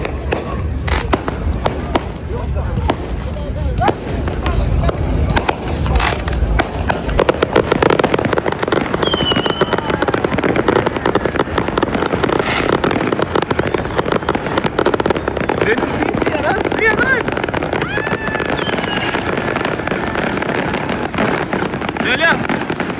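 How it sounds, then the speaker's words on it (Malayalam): Non-stop fireworks at a UAE National Day (Eid Al Etihad) celebration: dense, continuous bangs and crackling bursts, some sharp and close, with crowd voices mixed in throughout. "നല്ല അടിപൊളി നോൺ സ്റ്റോപ്പ് പൊട്ടായിരുന്നു"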